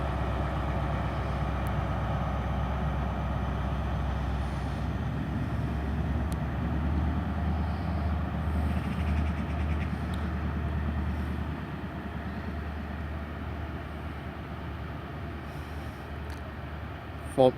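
A CrossCountry train pulls out of Torre station bound for Glasgow Central, a steady low rumble and engine drone that holds evenly, then eases slightly as it moves away.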